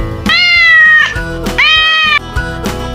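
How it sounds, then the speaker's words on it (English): A cat meowing twice, two long, loud, close meows with a quieter tail, set over a light musical background. "Cat. The cat says meow."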